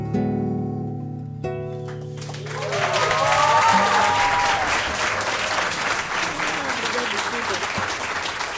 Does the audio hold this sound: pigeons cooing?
no